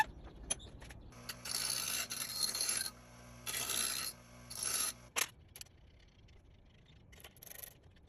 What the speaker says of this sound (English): go ahead and run a chaser on it